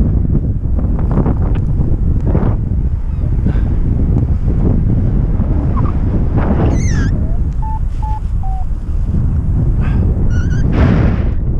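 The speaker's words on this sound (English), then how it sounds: "Wind." Strong wind buffets the microphone during a paragliding flight, a constant loud roar throughout, with a few brief high electronic beeps and chirps cutting through.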